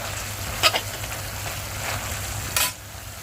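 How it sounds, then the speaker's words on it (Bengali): Leafy greens fry in a pan with a continuous soft sizzle, broken by two brief louder scrapes or stirs; no voices. "এখানে শাকটা ভাজা বসিয়ে দিয়েছি"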